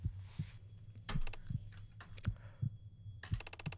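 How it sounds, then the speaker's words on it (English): A video game heartbeat effect, a steady low thumping pulse repeating about every half-second, with sharp clicking taps like typing and faint game sounds mixed above it. "you can hear the heartbeat"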